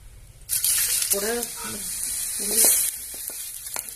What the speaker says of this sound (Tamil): அடுத்தது சுண்டைக்காயை நல்லா வதக்கிடணும்.